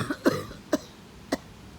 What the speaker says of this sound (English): I hope the perps feel that cough